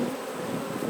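Honey bees swarm around an open hive during an inspection, a steady close buzzing drone that fills the whole brief moment with no voices.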